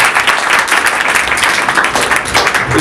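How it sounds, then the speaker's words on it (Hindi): Loud, sustained applause from a church congregation during a sermon, dense clapping filling the whole moment without a break. "यीशु के लिए जोरदार तालियां"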